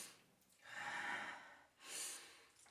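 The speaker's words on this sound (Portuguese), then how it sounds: "respire fundo" Two deep breaths, a long airy inhale followed by a shorter breathy exhale, close and alone in a quiet room.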